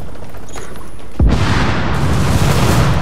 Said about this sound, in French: Ma boule a explosé tout d'un coup.